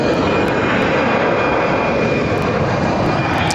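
Airliner departing from Barcelona airport, its engines roaring in a loud, constant, broadband rumble close by, unbroken throughout with no talk.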